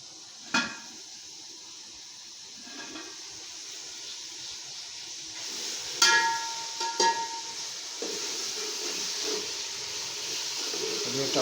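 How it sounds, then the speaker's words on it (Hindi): Chopped tomatoes and onions for mutton curry fry in a pan with a steady sizzling hiss, punctuated by occasional clanks of a spoon against metal, while a voice talks over the cooking. "ये टमाटर और प्याज इसको हम भून रहे हैं"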